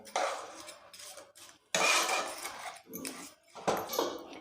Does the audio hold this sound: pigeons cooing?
no